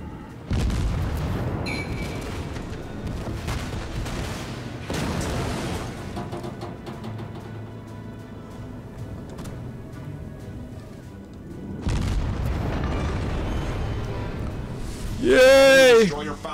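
Warship gun salvos and shell impacts in World of Warships, several heavy booming blasts spread through the clip with rumbling decay, and a sharp loud burst near the end, with a voice talking over parts of it.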